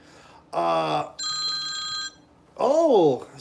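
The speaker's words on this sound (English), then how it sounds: "when you start talking about him, the phone rings again." A telephone rings indoors, a single clear electronic tone burst set between stretches of a man's speech.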